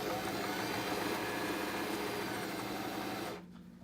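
A sewing machine runs steadily as it stitches fabric for a cushion cover, feeding slowly with a continuous, even motor hum and needle rattle, close and loud, before cutting off abruptly near the end.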